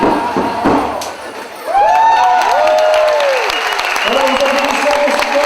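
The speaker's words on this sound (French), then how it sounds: "nous applaudissons la séquence et la participation" An audience at a 2004 country music event in Bernex claps and cheers, the applause swelling after a short lull, with children's shouts and whoops rising over the crowd.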